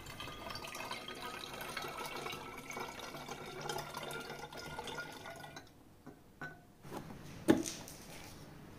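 About 50 ml of water is poured into naphtha in a small lab container, a soft trickle and splash followed by a few sharp drips and a clink of glass, close and quiet with no talk.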